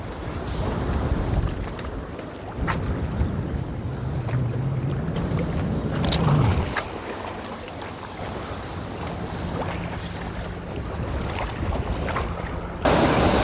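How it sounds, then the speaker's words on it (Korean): Strong wind buffets the microphone at the sea during a fishing trip, a loud continuous roar and rumble with gusts and a wash of waves, no voices. "바람이 진짜 너무 많이 불어요"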